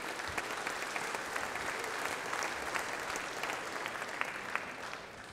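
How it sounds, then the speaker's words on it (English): Audience at a pop mixing masterclass applauds in a steady, dense wash of clapping that holds at an even level throughout and fades slightly at the end. "Can we give an applause for how mind-bendingly weird and awesome that is?"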